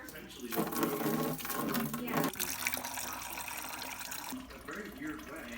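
Coolant drains from the radiator of a Porsche 924S into a bucket, a continuous pouring and splashing flow heard under a voice as he speaks.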